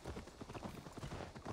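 Hooves clop in a quick, steady rhythm as a horse is ridden in the video game Assassin's Creed Valhalla, quiet and close, with no talking.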